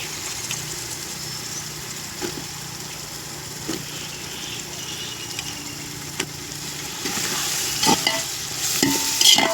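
Soya chunks (meal maker) are stirred in a pan while making vegetable biryani, with a soft continuous frying hiss and scattered scraping clicks that grow louder and busier toward the end, and no talking.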